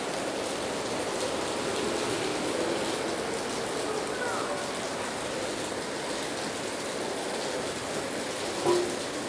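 Heavy midday rain pours steadily in Purwodadi, Grobogan, a dense, even hiss of drops on surfaces that stays constant throughout, with a brief louder patter near the end and no talk.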